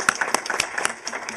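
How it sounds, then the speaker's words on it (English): Brief, moderately loud clapping from a city council meeting audience welcoming a young contest winner, a quick scatter of hand claps over about a second. "Can we give a round of applause and welcome Callie?"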